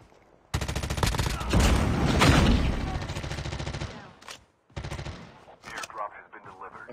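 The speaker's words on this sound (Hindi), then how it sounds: "कोई कोई गोली चला रहा" Rapid bursts of automatic gunfire from a QQ9 submachine gun in a video game, loud and sustained, with a brief pause before more shooting resumes, mixed with game sound effects.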